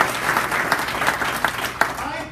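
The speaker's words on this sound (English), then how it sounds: "Give her a round of applause." Audience applause fills the room, a dense steady patter of many hands with a few sharper claps, moderately loud and continuous throughout.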